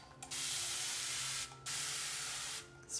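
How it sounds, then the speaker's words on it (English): Two long hissing sprays of paint from a mister bottle, each lasting over a second, separated by a brief pause, close and steady. "So this is a spray bottle, mister bottle that I have"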